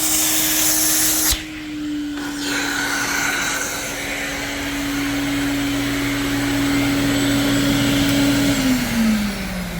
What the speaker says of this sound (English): So that's what I'm going to use for the vacuum table.